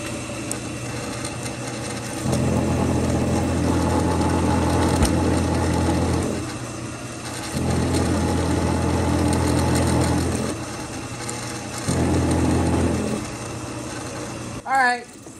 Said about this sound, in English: we're going to drill another hole with my drill press in the top